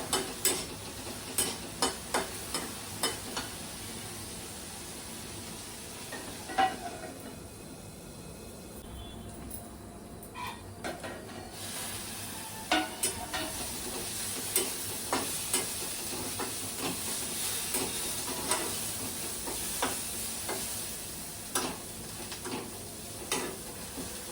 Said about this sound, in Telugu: మాడిపోకుండా మధ్య మధ్యలో ఇలా కలుపుతూ ఉండాలన్నమాట.